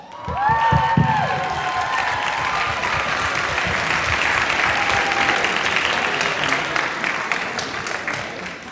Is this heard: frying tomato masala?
no